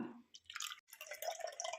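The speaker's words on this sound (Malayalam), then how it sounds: "അരി അരച്ച് വെച്ചേക്കുന്നത് ഒഴിച്ചു കൊടുക്കാം" Ground rice paste poured into a bronze pot, giving soft, wet drips and squishy glugs up close, in two short bursts split by a brief pause.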